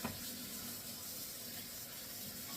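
Steady rushing water runs from a faucet into a pot, soft and even throughout the short stretch, with no voices.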